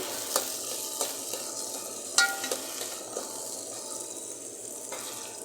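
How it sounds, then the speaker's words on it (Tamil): Onions sautéing in a pan for a vegetable kuzhambu, a steady bright sizzle with a few soft stirring scrapes and one sharper clink, close and without talk. "வெங்காயம் வதங்கிருச்சு"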